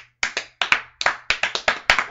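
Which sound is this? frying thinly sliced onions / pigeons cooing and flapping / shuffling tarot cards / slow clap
slow clap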